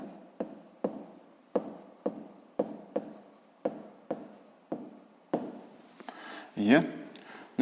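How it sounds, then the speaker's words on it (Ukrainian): Pen strokes scratch steadily as an answer is written by hand, a regular series of close, soft scraping bursts at about one per second, with a voice briefly heard near the end. "записуємо тоді відповідь, пишемо відповідь"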